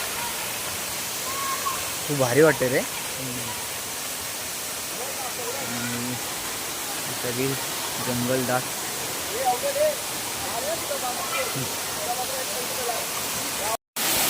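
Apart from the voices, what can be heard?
waterfall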